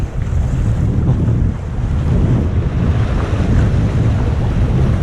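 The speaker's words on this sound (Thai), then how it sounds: "ลมจัดจริง" Strong wind blows at sea around a fishing boat, a loud, continuous roar of gusts and wind buffeting the microphone, with surging waves underneath and no talking.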